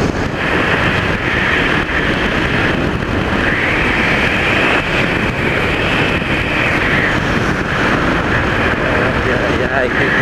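Strong wind roars across the microphone in a loud, continuous rush that buffets and swells throughout, with a voice talking over it at times.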